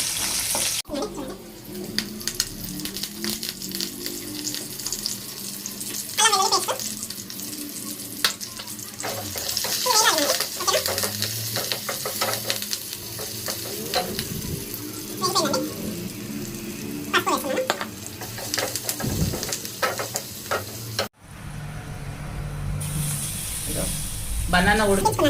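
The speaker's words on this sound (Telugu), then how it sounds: "ఇగో ఆయిల్ వేసాను, వేడైంది. ఆనియన్స్ వేస్తున్నా. వేగాలండి ఆనియన్స్." Onions frying in hot oil in a home kitchen, a steady crackling sizzle with occasional stirring and clinks, running continuously with talk over parts of it.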